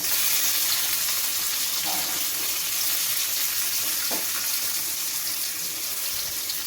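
Onion and tomato pieces frying in a pan for a fish curry, a steady broadband sizzle holding at an even level throughout, close and continuous, with no talking.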